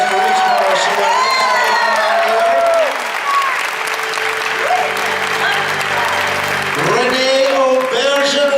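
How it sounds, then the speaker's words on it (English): A large crowd at a Star Trek convention in Las Vegas applauds and cheers loudly for celebrity guests, with whoops and shouts over sustained clapping and a voice speaking over the noise. "Come on, let's have a nice round of applause for each of our celebrities."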